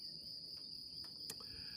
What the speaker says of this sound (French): il y a des grillons